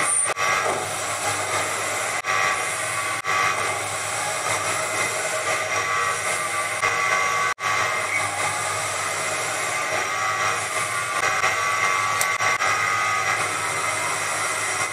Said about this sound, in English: I had to run the spindle a little faster than was ideal to make sure there was enough power to avoid stalling.